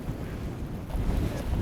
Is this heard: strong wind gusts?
yes